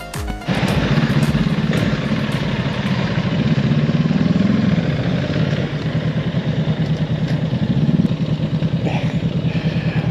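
A Honda CB500 motorcycle engine running steadily while riding, a loud close droning rumble with slight rises in revs, alone without talk.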